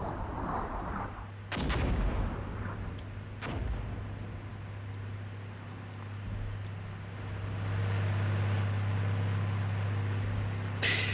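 Artillery fire in the modern warfare strategy game Armored Brigade II, several heavy booming blasts early on followed by a continuous rumbling battlefield wash with faint distant cracks.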